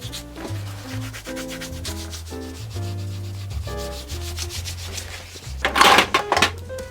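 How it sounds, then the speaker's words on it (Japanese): A cloth rubs dirt off a finished white leather bespoke full-brogue shoe, a close, continuous scuffing swish that swells into brisker strokes near the end, with soft music playing underneath. "全体をさっと汚れ落とししていきます"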